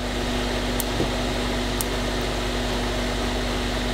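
A homemade fume extractor fan for an electronics soldering bench runs with a steady hum and even rushing air, constant and close, with a couple of faint clicks.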